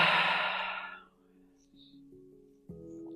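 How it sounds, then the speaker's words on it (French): A long, loud breathy exhale during alternate-nostril pranayama breathing practice fades out over about a second, followed by a quieter, tonal voice-like sound. "On inspire. Et on expire."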